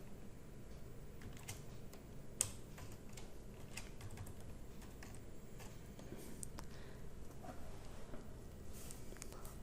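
Low, steady keystrokes on a computer keyboard during text editing in Notepad, a faint run of soft clicks with one sharper tap, over a constant background hum; nobody speaks.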